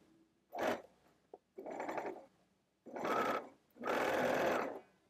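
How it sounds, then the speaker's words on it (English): A sewing machine stitches a tote bag seam at 5/8 inch in four separate bursts, each a steady close whir, with quiet pauses between them. "Once you've got it pinned, sew across the seam at 5/8 inch."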